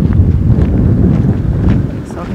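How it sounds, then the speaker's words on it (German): Strong wind buffets the microphone on a hike by the Rottachsee near Oy-Mittelberg, Bavaria, with a loud, low rumbling roar that continues throughout, a voice faintly mixed in. "Richtig windig."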